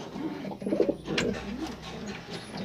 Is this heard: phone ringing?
no